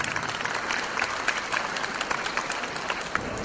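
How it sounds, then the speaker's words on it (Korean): A large audience claps steadily at a Disabled Persons' Day commemoration ceremony, producing dense, sustained applause with scattered sharper claps throughout and no voices over it. "박수를 부탁드립니다."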